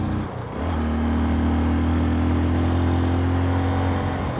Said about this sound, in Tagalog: So, nasa second gear tayo guys. Mungol talaga yung motor natin.